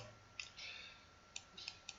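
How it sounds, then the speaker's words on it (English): Keys on a computer keyboard are pressed in a quick Alt and function-key combination, giving a few faint, crisp clicks spaced irregularly in a quiet room. "So I'm going to press that Alt and F11 on my keyboard."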